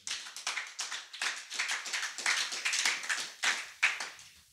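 A church congregation claps to acclaim the Lord, a dense run of brisk, sharp handclaps that rise and fall in quick bursts, close and loud.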